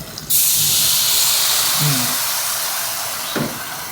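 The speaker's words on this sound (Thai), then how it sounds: "ยายจะใส่น้ำนิดนึง" Water poured into a hot wok of stir-fried holy basil, bursting into a loud, sustained close hiss of steam that slowly fades, with a faint clatter near the end.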